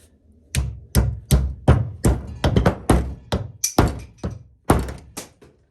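An old hatchet head is hammered down onto its wooden handle, a steady series of about fifteen hard thunks in an irregular rhythm, close and loud, with no talk between blows.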